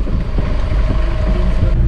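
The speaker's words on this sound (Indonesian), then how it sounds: "Cuaca juga angin kencang sekali nih" Strong storm wind gusts along a coastal road, loud and blustery, battering the microphone with continuous rumbling buffeting and no voices.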